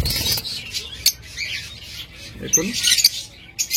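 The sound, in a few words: Lutino red-eye Fischer's lovebird pair calling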